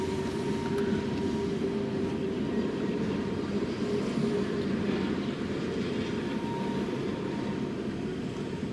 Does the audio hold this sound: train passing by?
yes